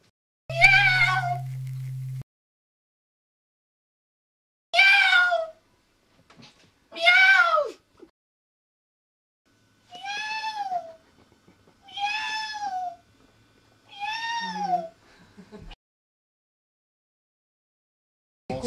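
A cat meows six times in separate, clear calls spaced a few seconds apart, close and fairly loud, with a brief low hum at the start.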